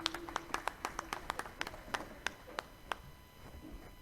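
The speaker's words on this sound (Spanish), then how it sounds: "Acompañamos también nosotros con un fuerte aplauso" Scattered hand claps at the opening of a technical and vocational education congress, sharp individual claps in an uneven rhythm from a small, sparse audience, fading out toward the end.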